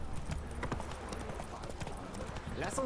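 In The Witcher 3, a horse gallops with rapid, steady hoofbeats throughout, ending in a short whinny, while a person talks over it.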